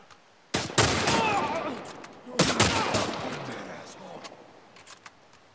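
Gunfire in the video game The Last of Us Part I on PS5, two loud sharp bursts of shots with echoing tails and a few fainter pops afterward, with game sounds and a voice underneath.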